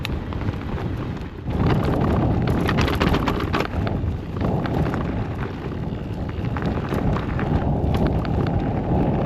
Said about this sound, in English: Oh, bloody hell, it's a bit windy.